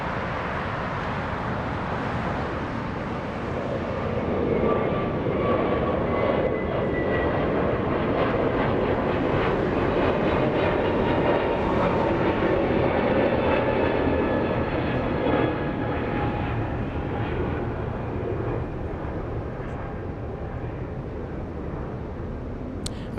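A Boeing 787 Dreamliner taxiing at LAX produces a sustained jet engine roar with a high tonal whine, steady and fairly near, swelling slightly in the middle before easing off.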